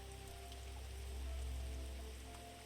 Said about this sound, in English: You can now hear that rain falling on the leaves above you.